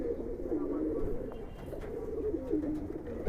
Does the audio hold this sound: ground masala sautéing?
no